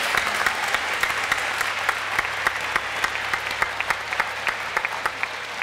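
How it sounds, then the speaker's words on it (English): An audience at The Hatch 2018 pitch event gives a steady round of applause for two contestants, many hands clapping at once with no voices over it. "So round of applause for Jacob and Nick"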